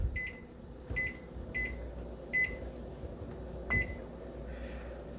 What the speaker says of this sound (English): The microwave screams in agony again.